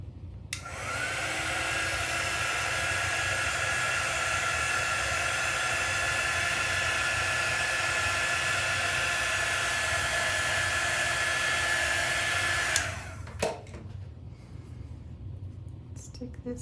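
A handheld dryer blows on a paper craft project, a loud, steady close whoosh running about twelve seconds before clicking off to quiet handling sounds.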